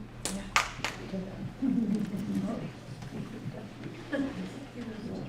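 A few sharp claps ring out near the start at a school board meeting, followed by people talking in the room.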